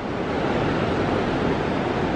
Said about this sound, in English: That is the only waterfall on the Mississippi River.